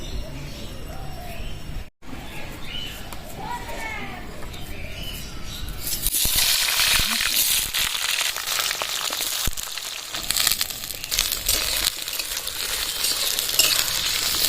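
Mustard oil starts hissing and sizzling in a wok partway through, a loud steady crackle that continues to the end, with quieter clatter before it.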